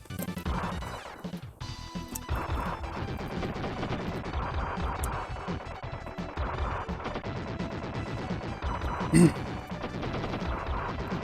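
Enemy gunfire in the Wild Guns shooter game on hard difficulty, steady rapid shots and crashes layered over continuous game music, with one louder burst standing out near the end.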